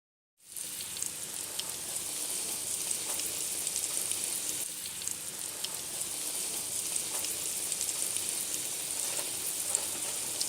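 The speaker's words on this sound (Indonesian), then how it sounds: "Lalu goreng pisangnya." Steady, bright sizzling of bananas frying in hot oil in a pan, continuous and even throughout, close up with no voices.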